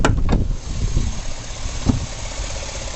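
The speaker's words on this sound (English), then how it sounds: "Here the engine runs perfect." Chevrolet Avalanche engine idling under the open hood, a steady close-up rumble with a faint ticking texture and no talk over it.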